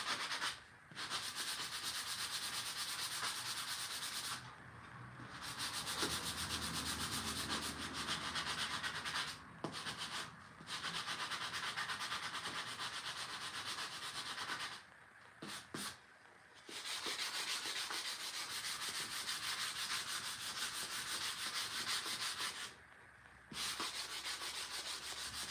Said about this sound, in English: Just have some hand sanding to do on the inside here.